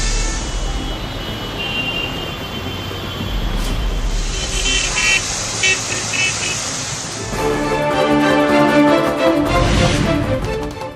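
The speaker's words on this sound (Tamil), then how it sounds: "முக்கிய சாலைகளில் மழைநீர் தேங்கியதால் போக்குவரத்து நெரிசல்" Congested Delhi road traffic after heavy rain: a steady roar of car and truck engines with repeated horn toots and honking, close and continuous throughout, with a voice faintly under the din.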